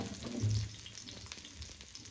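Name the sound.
onion frying in hot oil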